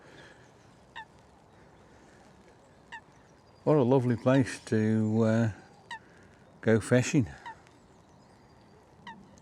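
Loud duck honking in short harmonic bursts on a lake, a few calls in quick succession, with a voice speaking briefly over quiet outdoor ambience on a wet day.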